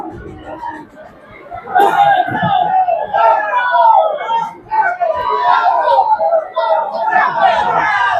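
Crowd noise from Seaqaqa supporters at a Vanua Levu football final at Subrail Park, Labasa, rises into loud cheering and shouting, sustained chatter and whoops filling the air.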